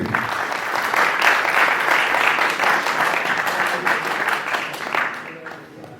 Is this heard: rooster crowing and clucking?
no